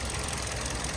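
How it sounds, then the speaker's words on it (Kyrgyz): A 2017 Hyundai Solaris with a 1.6 engine and automatic gearbox idling: a steady, even engine drone heard close up, continuous and unchanging over a brief moment with no talking. "Мотору бирок четкий иштеп турат."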